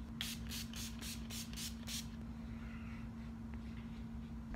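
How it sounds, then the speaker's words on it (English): Makeup setting spray misted from a pump bottle: about seven quick, evenly spaced hissy puffs in the first two seconds, then only a steady low hum. "I'm gonna go back to my setting spray, and I gonna set it in place"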